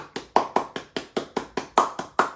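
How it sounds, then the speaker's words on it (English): Clapping in a steady rhythm of about a dozen sharp, evenly spaced claps, close and clear, sounding like a single person or small group rather than a large audience. "Let's give a round of applause for Dillon Gabriel."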